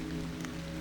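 Steady rain falls in a soft, even hiss with no pauses, close and continuous throughout the short stretch.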